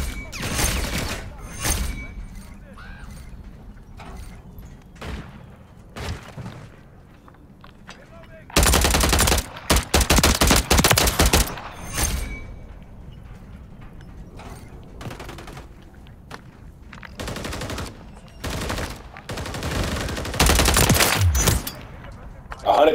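Call of Duty: Modern Warfare III machine gun fire, repeated loud bursts of rapid automatic shots between quieter stretches, with a player's voice talking between the volleys.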